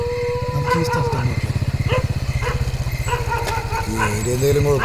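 Several dogs bark and howl in a string of rapid yelps, with voices talking over them and a motorcycle-like engine drone underneath.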